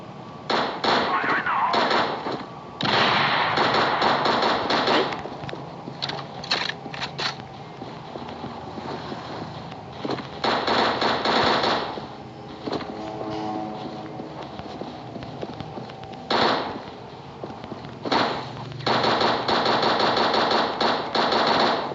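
An AN94 rifle fires in rapid automatic bursts in a video game zombie mode, loud and close, with short pauses between bursts and game sounds filling the gaps.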